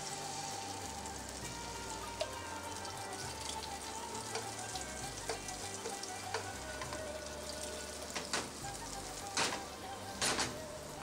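Beaten egg poured into hot oil in a pan while making chatti pathiri gives a steady, close frying sizzle with scattered crackles and a few sharper pops near the end, and no voices.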